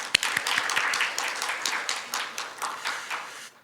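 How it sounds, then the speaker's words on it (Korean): An audience at a water symposium gives a burst of applause, dense clapping that starts strongly and gradually thins out before stopping abruptly. "큰 박수 부탁드립니다"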